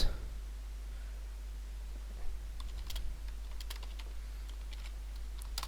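Python code typed on a computer keyboard: scattered, sharp keystroke clicks that grow busier after a quiet start, close and fairly soft over a steady low electrical hum, with no talking.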